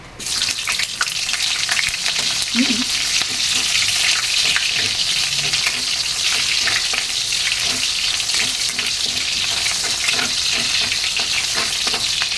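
Onion and garlic sauté in hot oil for Filipino pancit, a loud, steady, hissing sizzle that runs unbroken from start to finish, with faint stirring clatter and no voices.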